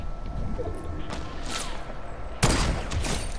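Sniper rifle shot in a squad video game, a sharp loud crack near the end that stands out over low background game noise and fainter distant shots.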